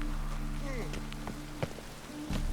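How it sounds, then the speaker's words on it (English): Rain in the video game The Witcher 3: Wild Hunt, pattering with scattered drops hitting a surface, set against a low steady hum and faint tonal game sounds, fairly quiet. "Ah, let it rain."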